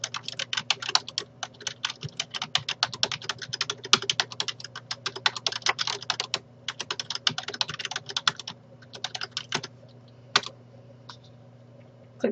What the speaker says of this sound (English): enter the following labels. Pressing the enter key after each.